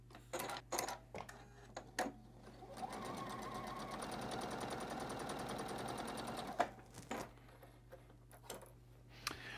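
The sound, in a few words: sewing machine stitching quilt block rows together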